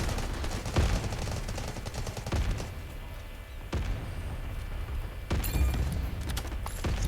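Rapid bursts of automatic gunfire in a 24-versus-24 Delta Force shooter match, several sharp volleys separated by short pauses, fairly loud and close.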